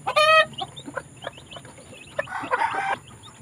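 Pet chickens cluck and squawk close by in short irregular bursts, with a sharp rising call at the start and a scratchy flurry near the end, over a quiet background with no talking.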